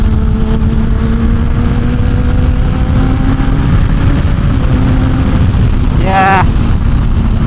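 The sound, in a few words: Kawasaki ZX10-R motorcycle with Graves full exhaust riding off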